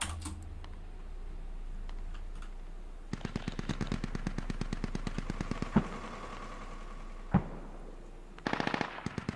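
Rapid automatic gunfire rattles in several bursts in the tactical shooter Squad, mixed with sharp single shots and a few fast clicks, loud and close against a low rumbling backdrop.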